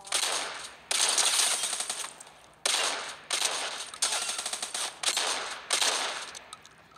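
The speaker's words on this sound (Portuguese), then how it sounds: "Tá vindo de lá o tiro?" Machine gun fire from the video game Fortnite, rapid loud bursts of automatic shots in about five strings separated by short pauses, with no talk.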